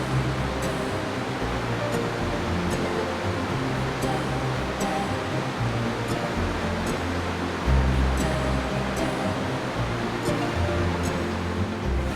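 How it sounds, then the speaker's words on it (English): Montezuma Falls in Tasmania, a large waterfall roaring as a steady dense rush of water, continuous and even, heard from nearby without speech. "That is a big waterfall."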